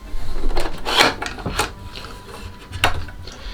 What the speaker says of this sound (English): what I'm going to do next is just open up the thread door